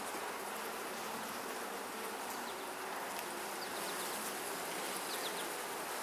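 Honeybees swarm and buzz over an open hive during a frame inspection, a dense, steady drone filling the scene with a few sharper individual wing whines passing close by.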